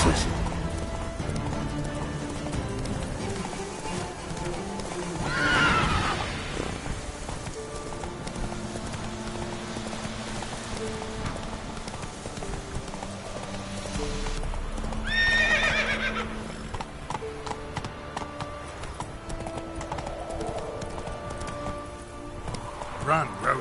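Roach, a horse in The Witcher 3 video game, gallops with a continuous rhythmic clip-clop of hooves, broken twice by loud neighs.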